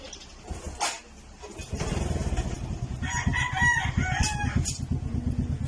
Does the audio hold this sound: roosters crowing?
yes